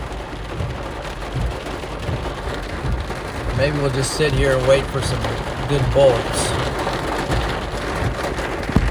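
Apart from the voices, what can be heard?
heavy rain from a supercell storm hitting the car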